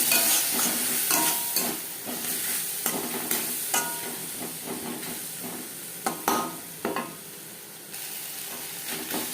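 Onions fry with ginger paste and green and red chili paste, a steady close sizzle under repeated stirring scrapes and occasional clanks of a spoon against the pan. No voices are heard.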